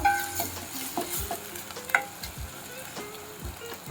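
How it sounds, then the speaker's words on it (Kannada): Onions and ginger garlic paste fry in a pan for Uttar Kannada-style dal tadka, with a steady close sizzle under repeated scraping stirs of a spatula and a sharper clack near the middle. No one speaks. "ಈಗ ಎಲ್ಲ ಮಿಕ್ಸ್ ಮಾಡಿ ಫ್ರೈ ಮಾಡಿಕೊಳ್ಳಿ."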